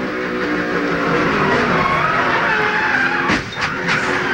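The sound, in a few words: NASCAR race car crash, tire disintegrating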